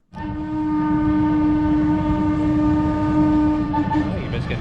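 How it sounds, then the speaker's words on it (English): A train rumbles past steadily and loudly while a long horn blast holds through most of it, close by. "And I believe there's another train coming."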